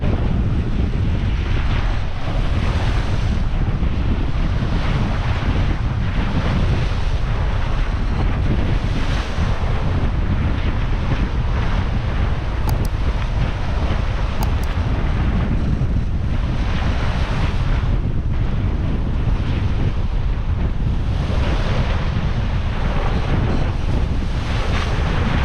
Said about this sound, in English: Currents against the wind at the moment, so it's making the sea state quite steep